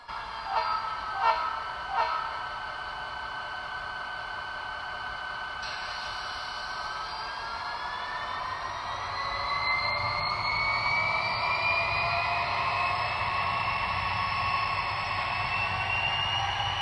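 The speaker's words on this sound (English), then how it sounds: "we might as well just sit back and take a listen to this SW in all its glory" A restored SW switcher locomotive engine runs with a steady diesel drone and rising whine, a few rhythmic knocks early on, growing slightly louder and fuller partway through, with no voices.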